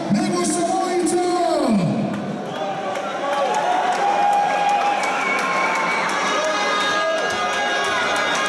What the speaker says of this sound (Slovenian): sedaj pa velik aplavz za našega Nebojša Vojića!